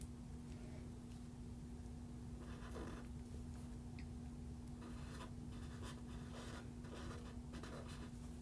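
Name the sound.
drawing a flower border on a card with Emboss It pen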